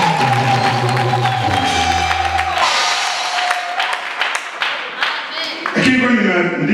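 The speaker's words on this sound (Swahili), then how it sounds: "Pigie Yesu makofi." Church congregation at a Tanzanian gathering clapping for Jesus, a dense steady burst of applause with cheering voices and lingering sung tones, fading partway then swelling again near the end.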